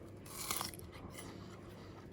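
Someone bites into a crunchy fragrant pear, making a single close crisp crunch followed by softer chewing and moist crackles, quiet and with no talking.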